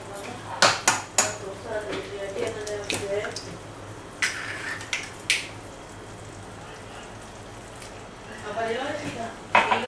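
Eggs cooking in tomato sauce in a pan for shakshuka, giving a soft continuous sizzle broken by sharp clinks and taps of utensils against the pan, with people talking over it.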